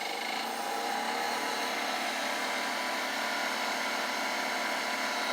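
An air compressor runs nearby with a steady, unbroken mechanical hiss and drone throughout, moderately loud, with no voices over it.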